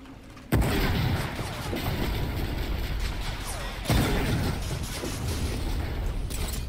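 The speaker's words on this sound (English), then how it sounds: "That's a gun, dude." Gunfire in the co-op shooter Remnant: From the Ashes, played on hard difficulty: loud, dense booming shots and blasts that run continuously, with two especially heavy bursts near the start and middle.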